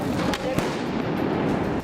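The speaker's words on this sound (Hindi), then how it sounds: "प्रदर्शन में शामिल महिलाओं ने अपनी नाराजगी जताने के लिए पुलिस के सामने कई पटाखे भी फोड़े।" Firecrackers set off during a women's protest in front of police, a few sharp bursts over a dense crowd roar, with a news narrator talking over it.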